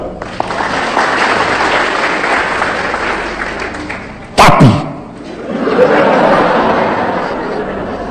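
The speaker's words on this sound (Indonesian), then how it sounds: "Tepuk tangan." A church congregation claps for a men's vocal group during a sermon, a loud, busy round mixed with chatter and cheering, briefly interrupted by a sharp noise before swelling again.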